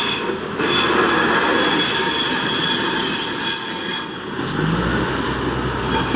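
A shunting rail vehicle running with a crane wagon at Spiez station, its wheels squealing in a continuous high metallic whine over a steady low rumble of rolling stock, loud and close throughout.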